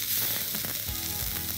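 Vegetables sizzling in a pan for a sweet and sour vegan stir fry, a steady bright crackling fry with a few soft stirring scrapes, close and continuous.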